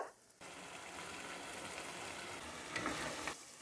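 Beef karahi with ginger and garam masala sizzling in a pan, a steady faint hiss that starts abruptly and continues with a brief stirring swell near the end.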